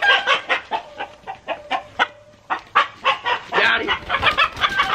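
A big chicken being grabbed and caught clucks in rapid, agitated bursts, loud and close, with a brief pause midway before the frantic clucking resumes.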